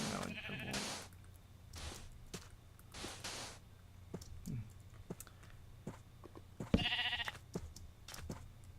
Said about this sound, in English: All these cow noises spook me.